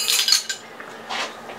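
A metal teaspoon clinks lightly against a jar or dish while measuring salt for pickling jalapenos, a couple of quick, bright taps close by and fairly quiet.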